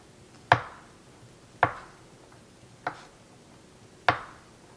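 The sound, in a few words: knife slicing food into little bits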